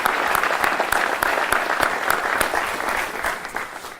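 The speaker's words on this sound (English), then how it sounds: "I want to give them a round of applause and thank you for being here today to celebrate." An audience applauds at a valedictorian celebration in the Worcester area, steady sustained clapping from a room full of people for several seconds, fairly close and loud.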